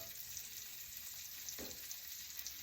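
Pork chops fry in browning butter in a pan, giving a steady close sizzle and crackle throughout, with a brief soft clink partway through.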